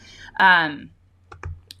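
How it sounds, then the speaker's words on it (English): A brief burst of computer keyboard typing, a short cluster of clicks followed by a couple of faint taps in an otherwise quiet room. "I know he's feverishly typing right now"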